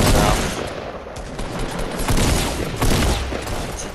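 Rapid bursts of gunfire in Fortnite fill the scene, loud, dense and continuous, with overlapping shots and a few heavier cracks through the stretch.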